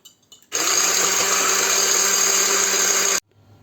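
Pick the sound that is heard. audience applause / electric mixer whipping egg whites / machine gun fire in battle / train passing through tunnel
electric mixer whipping egg whites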